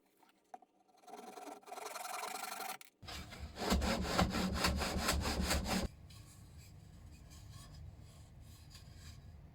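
A hand saw cuts a wooden board held against a guide, first lighter rasping strokes, then a burst of loud, rhythmic back-and-forth sawing, before settling into quieter scraping; close and without talk.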